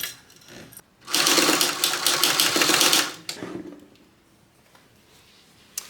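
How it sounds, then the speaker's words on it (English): A sewing machine stitches a bag seam at 3/8-inch seam allowance in one loud, steady burst of about two seconds, with quiet handling sounds before and after. "we're going to be sewing these together at 3/8 of an inch seam allowance"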